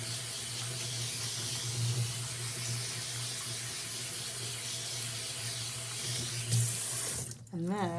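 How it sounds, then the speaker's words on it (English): Tap water pours steadily over salted apples in a colander, a close, continuous rushing splash that holds even for most of the stretch before shifting briefly near the end. "I'm gonna go ahead and put all of this through the colander and give it a good rinse and squeeze."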